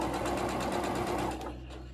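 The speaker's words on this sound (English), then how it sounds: "I do not sew over my pins." A sewing machine stitches fabric for scrunchies: a fast, close mechanical whirring chatter that slows and softens near the end.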